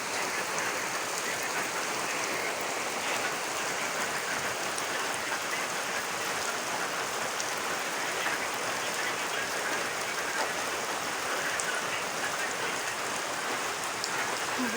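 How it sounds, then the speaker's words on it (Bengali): Rain falling steadily at night, an even continuous patter and hiss of drops on surfaces, moderately loud and unbroken throughout. "বৃষ্টি"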